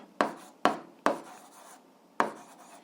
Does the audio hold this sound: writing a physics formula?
yes